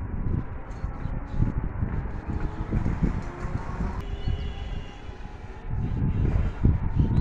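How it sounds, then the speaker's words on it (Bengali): Wind blows across an open railway line beside a marsh under a cloudy sky, making a low, gusty rumble that buffets the microphone and rises in uneven surges throughout, with no voices. "কিছুক্ষণ পর পরে আপনার বাতাস আসতেছে"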